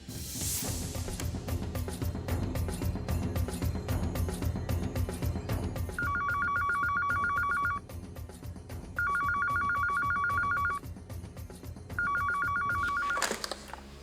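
A telephone rings in three repeated electronic ring bursts, played under loud, dense background music.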